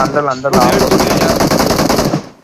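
Rapid machine-gun fire in the video game BGMI rattles loudly and close in a sustained burst lasting about two seconds, right after a brief voice.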